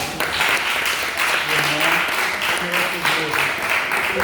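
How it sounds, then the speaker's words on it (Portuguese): A round of applause during an urban evangelism class, dense continuous clapping from a group with voices mixed in underneath. "Mais uma salva de palmas para ele."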